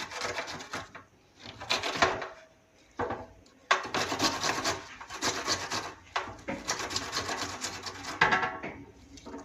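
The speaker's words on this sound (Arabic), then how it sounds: "انا ببشر بس البصل اهو زي ما انتم شايفين" An onion is rubbed against a grater in a home kitchen in repeated rasping strokes, each a scratchy burst of a second or two separated by short pauses, close and clear with no voices.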